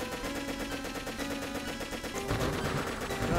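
Rapid gunfire in a Roblox game, a steady stream of repeated shots that grows heavier after the first two seconds, loud and up front with no voices.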